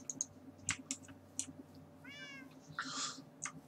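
Cats meowing in Minecraft: several short, faint meows scattered over a quiet background, mixed with light keyboard clicking and a longer wavering meow near the end.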